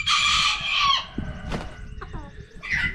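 Chickens on a small Tennessee homestead cluck and squawk, with a loud burst of high calls at the start, scattered clucks through the middle and another raised call near the end.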